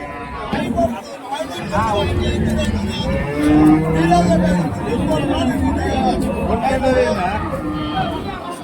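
Cattle low repeatedly at a cow market in Karimangalam, Dharmapuri, long deep moos rising over a busy outdoor crowd with steady chatter and voices throughout.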